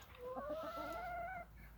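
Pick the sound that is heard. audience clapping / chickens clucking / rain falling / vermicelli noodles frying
chickens clucking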